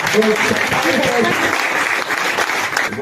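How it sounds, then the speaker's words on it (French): Loud sustained applause from a church congregation at a worship service, with scattered voices and cheers mixed into the steady clapping throughout. "Acclamez très fort le Seigneur."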